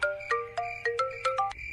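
A mobile phone ringtone plays an incoming-call melody of short, bright repeated electronic notes in quick bursts, close and clear, with no voices over it.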